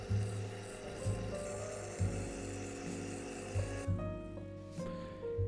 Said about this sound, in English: with the help of some Scotch-Brite and a needle file, I'm getting the surface and the chamfer ready for the tapping.